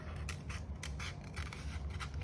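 Scissors snipping a chunk of white paper out of a cityscape art project, a quick series of close, crisp cuts repeating steadily, with no talking.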